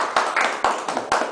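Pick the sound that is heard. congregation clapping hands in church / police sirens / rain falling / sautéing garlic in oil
congregation clapping hands in church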